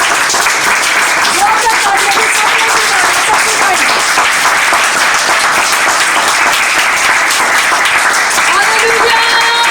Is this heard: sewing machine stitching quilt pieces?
no